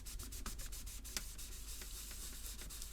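Atari 800XL plastic case having its top layer finely abraded with a very mild abrasive, a soft, close, continuous rubbing scratch with quick back-and-forth strokes, faint and alone.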